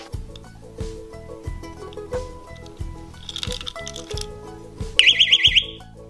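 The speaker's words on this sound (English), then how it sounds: "you can carry a personal alarm instead" A shrill, warbling electronic alarm blares in quick pulses near the end, loud above rhythmic background music.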